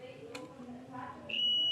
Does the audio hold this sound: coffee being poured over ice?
no